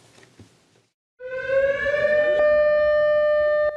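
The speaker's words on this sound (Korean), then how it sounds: "울릉도 전역에 설치된 14개 사이렌에서 경보가 울려 퍼집니다." Civil defense air-raid siren sounding across Ulleungdo island as a missile alert, a steady loud wailing tone that starts abruptly after faint background noise and holds strongly, with no talk over it.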